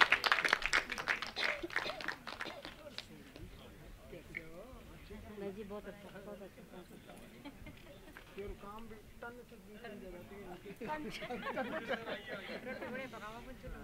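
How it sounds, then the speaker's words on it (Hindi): An audience at a film premiere applauds: a burst of clapping at the start fades under someone speaking over a microphone, then a second round of clapping rises near the end. "एक बार जोरदार तालियां होनी चाहिए अजय बिष्ट जी के लिए।"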